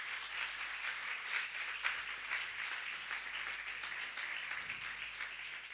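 Church congregation applauding for Jesus during a sermon, a steady wash of many hands clapping together, moderately distant and even throughout with no voices on top.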